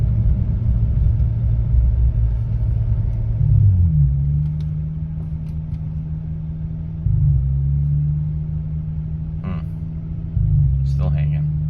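A Hyundai Tiburon four-cylinder engine with a tuned ECU sits in neutral, its idle hung up at about 2,200 RPM. It produces a steady, close rumbling drone that barely shifts, with small dips in pitch and a few faint clicks on top.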